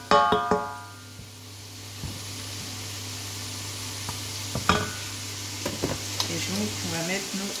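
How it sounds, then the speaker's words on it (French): Flour stirred into melted butter for a roux, a soft sizzle under a steady low hum, with scattered scrapes and taps of the utensil in the pan. "Et donc on va mettre nos 2 cuillères à soupe de farine. Donc ça, c'est ce qu'on appelle un roux."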